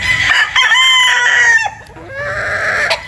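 A Boston Roundhead gamefowl crows loudly and close by, with a long drawn-out call broken by a brief dip and then resumed, over faint background noise and no talk.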